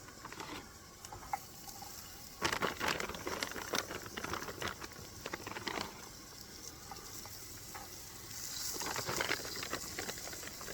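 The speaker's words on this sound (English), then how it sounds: "So I'll go ahead and throw in some broccoli." Broccoli tossed into a pot of lazy stew with peppers and onions, soft irregular patters and crinkling clatters with a faint simmering hiss underneath, fairly quiet and close.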